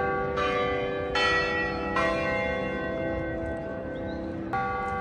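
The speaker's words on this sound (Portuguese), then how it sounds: "Olha, o sino tocando está anunciando" Church bell in Mexico City ringing out several resonant strikes, with long humming decays overlapping between them and a slightly irregular rhythm, heard clearly with no talk.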